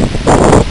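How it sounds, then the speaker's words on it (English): Strong gusting wind sweeps leaves around outdoors during a severe windstorm, a loud, continuous broadband rush and rustle that swells midway through the brief moment. "the wind is blowing all the leaves everywhere"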